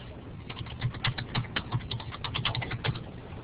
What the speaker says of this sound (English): Hang on, I'm just typing in the address.